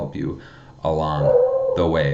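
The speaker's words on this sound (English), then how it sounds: "That's my dog barking." A dog barks and howls in drawn-out, whimpering cries at close range, mixed with a person speaking.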